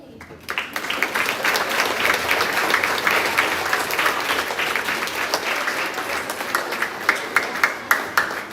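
Applause from a school audience at a grades 4-6 awards assembly, a steady wash of many hands clapping that swells and holds for several seconds, with a few louder claps standing out near the end.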